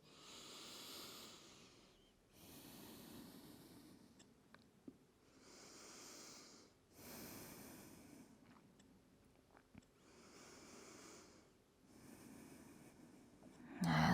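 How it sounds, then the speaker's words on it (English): Slow, deep breaths in and out through the nose during a yoga practice, about five soft airy cycles with quiet pauses between them, close and gentle. "breathing in and out of your nose."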